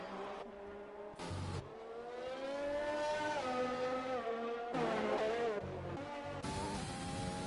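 F1 race cars in the F1 2020 video game at the Austria circuit, high-pitched engines screaming and shifting as cars pass, pitch rising and falling with several loud sweeps, no talk.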